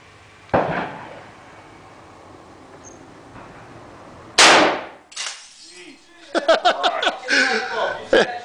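A .50 BMG rifle fires once indoors, a sharp loud blast with a brief decaying tail, followed by scattered clatter and people talking and laughing nearby.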